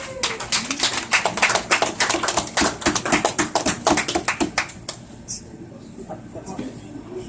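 Clapping at a summer bowling league awards ceremony: a loud, close run of sharp, rhythmic claps, some hands standing out above the rest, fading after about five seconds as voices talk quietly.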